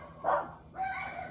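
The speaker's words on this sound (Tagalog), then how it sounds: "Dami aso dito oh." A couple of short barks from a dog, fairly faint and brief, with a slight whine at the end.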